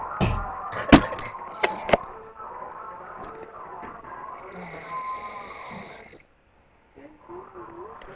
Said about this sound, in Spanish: Qué lindo que ronca, ¿no?